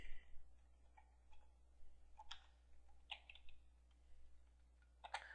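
Keys on a computer keyboard are tapped in short, irregular bursts while a search is typed, producing faint, close clicks over a steady low electrical hum.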